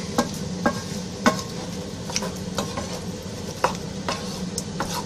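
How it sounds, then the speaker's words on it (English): A spoon stirring steak chili with canned tomatoes, seasonings and chopped vegetables in a pot, knocking and scraping at an uneven pace over a low, steady simmering sizzle. "Give that a good stir to mix everything well."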